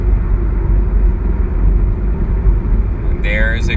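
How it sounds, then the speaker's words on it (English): A nearby car gives a steady low engine and road rumble throughout, loud and close, with a brief voice-like sound breaking in near the end. "There's a car right there."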